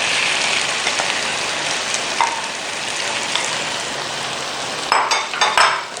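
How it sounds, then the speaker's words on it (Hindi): Okra hits fried onions in a hot pan and sets off a steady, close, bright sizzle like rain on a surface. A few quick utensil clinks and stirring knocks come near the end. "अब इस टाइम पर हमने भिंडी शामिल करनी है।"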